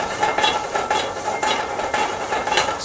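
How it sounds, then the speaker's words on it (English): Asparagus sautéing in butter in a pan, a steady close sizzle with rhythmic stirring scrapes repeating throughout, no talking. "Just quickly saute that."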